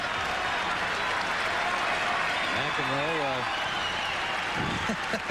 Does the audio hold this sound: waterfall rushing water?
no